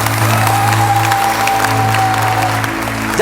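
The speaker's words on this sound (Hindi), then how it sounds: "तालियां भाई।" Applause for the Pakistan cricket team at a grand reception held at a media headquarters, loud and steady throughout, with a sustained musical tone and crowd noise underneath.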